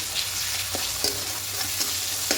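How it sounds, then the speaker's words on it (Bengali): Tomatoes frying in a pan and stirred, a constant sizzle broken by several sharp scrapes and taps of the spoon at irregular intervals, close and fairly loud, no talk. "এবার একটু নাড়াচাড়া করে নেবো টমেটোটা একটুখানি গলে আসা পর্যন্ত"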